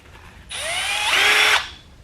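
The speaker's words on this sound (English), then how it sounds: "I got my drill bit on low, or my drill on low speed." A power drill whirs at a steady, fairly low speed for about a second, close by, with a slight rise in pitch before stopping, while working on a 68RFE transmission valve body.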